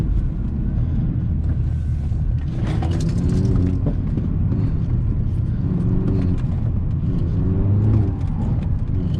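An Opel Astra with the OPC pack and 180 horsepower pulls at full throttle while its wheels spin. A loud, continuous engine roar fills the cabin, with its pitch rising and falling through repeated acceleration.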